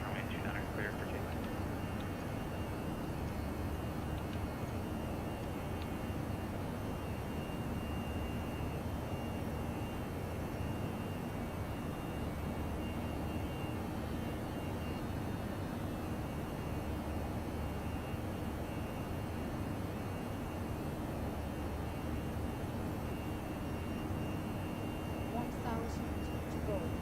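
An Airbus A319 takes off in the X-Plane 11 flight simulator, its engines a continuous broad roar that stays level and unchanging throughout, with a faint high whine above it.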